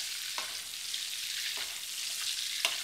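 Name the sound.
lamb pan-searing while basted with butter and oil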